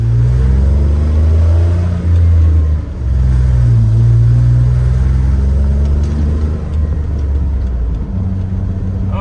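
A 1995 Chevy 1500 pickup with a 4.3 engine rumbles loudly from inside the cab on a test drive, its engine revving and shifting up and down through gears, no talking.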